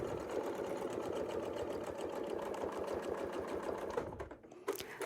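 A sewing machine quilts flying squares guided by a Westalee ruler, its fast even stitching chatter running steadily and close before cutting off near the end, followed by a small click.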